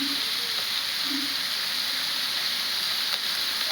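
Ginger paste frying in hot oil for street-style egg noodles, a steady bright sizzle that holds evenly throughout, close and continuous with no talking.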